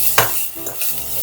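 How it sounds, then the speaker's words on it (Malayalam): Garlic goes into frying onions in a pan with a sharp utensil clink, then a soft sizzle and the scrape of stirring, heard close with no talking. "ഇനി ഇതിലേക്ക് വെളുത്തുള്ളി ആഡ് ചെയ്ത് കൊടുക്കുവാണേ."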